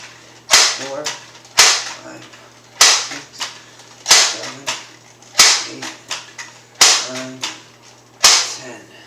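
A BB gun is pumped ten times in a steady rhythm, each stroke a sharp close snap followed by a short rasping slide, loud and evenly spaced with no talk.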